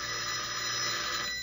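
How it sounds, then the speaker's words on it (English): An old-fashioned telephone rings continuously in a 1948 radio drama, a steady bright ringing bell held for over a second with no voices over it. "Well, answer your phone, Anders."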